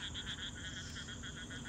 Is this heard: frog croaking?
yes